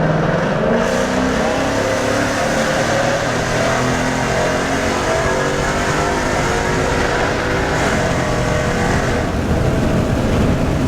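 A sixth-generation Ford Mustang GT with the 5.0 V8 accelerates hard, its exhaust a loud, continuous roar that climbs steadily in pitch as the revs build, heard close from on board with no talk.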